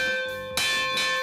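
An antique bell rings with a sharp struck onset followed by a sustained, bright metallic tone with steady overtones, heard close and alone.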